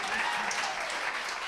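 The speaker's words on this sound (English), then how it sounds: "Can we get another round of applause for our guest here tonight, JJ Moser?" An audience at a block party event applauds a guest, dense and steady clapping filling the room throughout the short moment.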